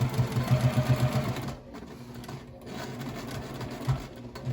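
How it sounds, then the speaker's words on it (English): A sewing machine stitches fabric for a face mask, a close, rapid mechanical chatter that runs, pauses briefly to back stitch, then resumes, with no voices. "I start sewing for 5 seconds."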